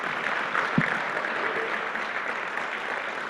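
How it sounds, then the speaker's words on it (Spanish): Congregation applauding at a Christian Bible conference service, a steady broadband patter of many hands clapping, moderately loud and continuous throughout. "Un aplauso más para el Señor."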